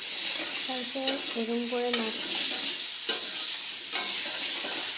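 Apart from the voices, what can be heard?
potatoes being stirred while frying in a pan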